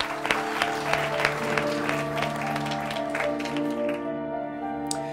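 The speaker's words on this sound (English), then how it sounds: "I think we all deserve a round of applause." An indoor audience at a haunted-inn show featuring psychics breaks into steady applause, many hands clapping close and continuously for several seconds before it thins out near the end.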